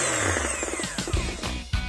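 An electric mixer beats cake batter of dulce de leche, cream, butter, flour and baking powder in a continuous close whir with shifting pitch and rattling.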